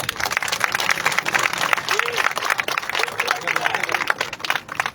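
A crowd at an outdoor political event for a tree planting campaign in Liaquatabad, Karachi, claps in a loud, dense burst, with voices mixed into the noise.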